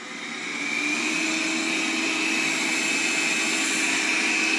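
A Roidmi Eve Plus laser robot vacuum cleaner runs steadily nearby, a continuous whirring motor hum with a high whine that rises slightly at the start and then holds constant, no voices.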